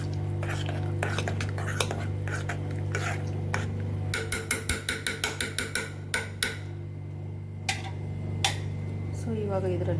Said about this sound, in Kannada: ಸೊ ಇದರಲ್ಲಿ ನಾನು ಇವಾಗ ನೀರನ್ನು ಮಿಕ್ಸ್ ಮಾಡ್ಕೊತಾ ಇದ್ದೀನಿ.